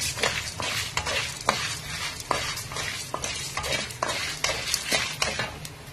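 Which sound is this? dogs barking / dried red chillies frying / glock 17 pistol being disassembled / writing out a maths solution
dried red chillies frying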